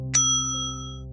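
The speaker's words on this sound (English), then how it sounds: "A brass bell sat beside a handwritten ring for service sign." A brass service bell is struck once, giving a bright metallic ding with a clear ringing tone that decays slowly over about a second, close and alone.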